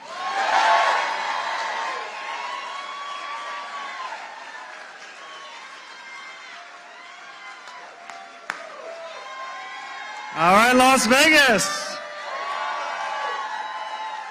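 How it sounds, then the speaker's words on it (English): A rowdy crowd at a Las Vegas political rally breaks into a short, loud burst of cheers and whoops, set between stretches of someone speaking over the PA. "What a great rowdy crowd"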